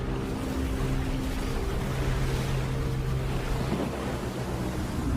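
Big ocean waves in the video game Genshin Impact, a steady broad wash of surf and rushing wind that rolls on without a break and stays loud and close throughout.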